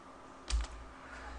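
A single keystroke on a computer keyboard, the Enter key pressed once while entering a spreadsheet formula, a short soft thump over quiet room noise.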